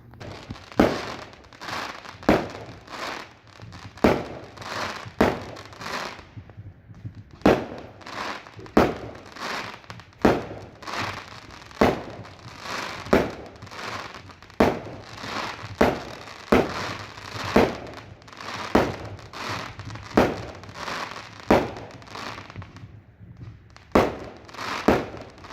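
Fireworks bang and crackle outdoors in a small garden on a summer night, a steady series of sharp bursts every second or so over a continuous low rumble, loud and close with brief lulls.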